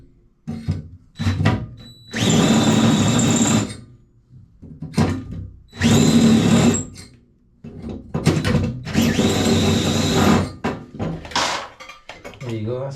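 Power drill boring holes into a metal 50 cal ammo box being made into motorcycle panniers, in several loud sustained bursts with pauses between; someone talks in the gaps.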